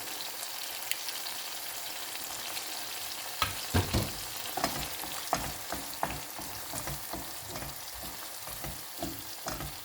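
An egg frying with sardines, onion, tomato and garlic in a pan, a continuous hissing sizzle that becomes busier midway with rapid stirring clinks and scrapes close by.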